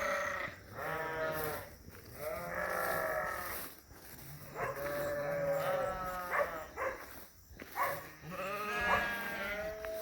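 Sheep on a farm bleat repeatedly and loudly, overlapping wavering cries coming in bursts with short gaps between them, near and clear over faint background noise.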